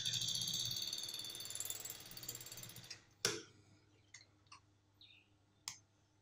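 A sewing machine stitches a welt pocket with a steady whirring run for about three seconds, then stops, followed by several sharp, isolated mechanical clicks and ticks close by, with no talking.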